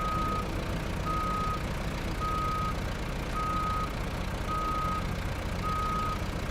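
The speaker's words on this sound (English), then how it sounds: "Lots of beeping incoming." A reversing truck hauling logs sends out a steady series of about six evenly spaced beeps, each roughly half a second long, over a loud, continuous engine rumble, with no one talking.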